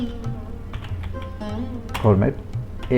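A format command being typed on a computer keyboard, with quick, light key clicks running under steady nearby talking.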